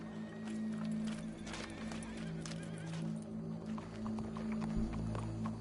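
Horse hooves clop and shuffle amid a busy game soundscape with a steady low hum and scattered background noises.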